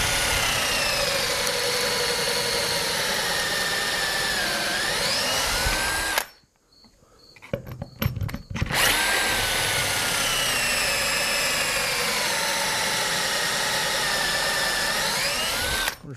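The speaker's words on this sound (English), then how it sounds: "We're just using a little battery operated drill, electric drill you can use too" A small battery-operated drill bores pocket holes into wood held in a jig, a loud whining run with pitch shifts as it bites, a brief pause with clicks, then a second long drilling run.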